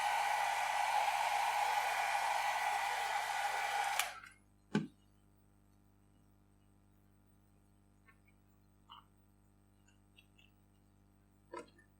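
A hair dryer blows steadily, loud and close, while drying alcohol ink, then switches off after about four seconds, followed by a soft knock and a few faint small clicks in a quiet room.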